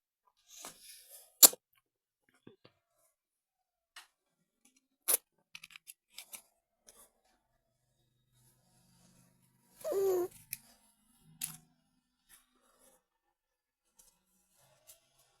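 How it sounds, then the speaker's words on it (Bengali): Scissors cut cotton fabric for the sleeve of a baby nima garment, making sparse, quiet snips and clicks with long silent gaps and one brief rustle of cloth. "এখন হাতাটাকেও আমি কেটে নেব সেই মাপ অনুযায়ী"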